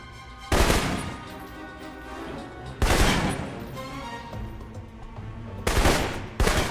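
Assault rifle fire in Alpha Protocol, during training: three separate loud bursts, each sharp at the start and fading quickly, with a low hum of background game sound between them.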